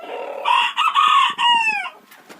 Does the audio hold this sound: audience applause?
no